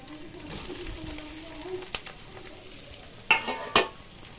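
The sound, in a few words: chicken pieces added to frying pan for chilli chicken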